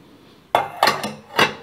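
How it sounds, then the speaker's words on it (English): A metal skewer clinks and scrapes against a small tin of homemade shoe polish, three or four quick close metallic taps and swirls. "give each tin a little stir"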